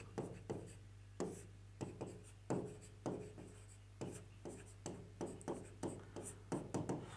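Chalk or marker strokes on a classroom board during a Class 10 geometry lesson, a steady run of short scratching taps and scrapes at an even pace, close up over a low constant hum, with no voice.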